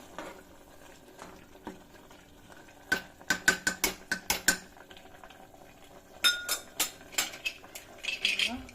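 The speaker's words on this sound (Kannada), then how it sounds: "ಕುಕ್ಕರ್ ಲಿಡ್ನ ಮುಚ್ತಾ ಇದೆ" A pressure cooker lid being closed over rice, giving clustered metallic clicks and clanks at close range, one burst mid-clip and another near the end, with no talk.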